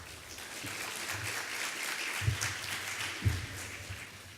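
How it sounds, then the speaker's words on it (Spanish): Applause at the Peru Energía 2018 energy conference, a moderate, even clatter of audience clapping with a low hum beneath and a couple of louder thumps partway through. "un aplauso fuerte para él"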